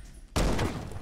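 A single loud gunshot in the Sherlock Holmes game, an abrupt blast after a near-silent moment with a booming, reverberant tail that lingers to the end.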